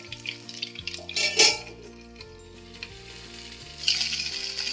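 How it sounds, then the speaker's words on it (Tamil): Jilebi fish fries in a pan with a moderate sizzle that swells in two louder bursts, while steady background music plays underneath. "நல்லா ஃப்ரை ஆகட்டும்."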